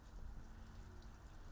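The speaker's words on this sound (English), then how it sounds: "Rain is still falling, some pretty heavy downpours this afternoon." Rain falling over St. John's harbor, a steady soft hiss of drops with a low rumble beneath, continuous and fairly faint with no voices.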